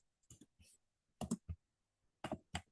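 Quick bursts of key clicks on a computer keyboard come in short clusters with gaps between them. The typing sounds close and fairly quiet, with no talking.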